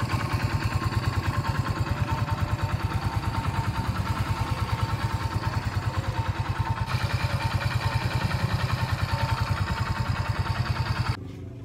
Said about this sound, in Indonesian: motor sudah nyala kembali